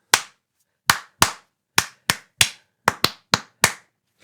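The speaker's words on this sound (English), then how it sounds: "And now I'll clap it for you." Hands clap a short rhythm for an aural test, ten sharp, close, dry claps spaced unevenly with silence between them and no talking.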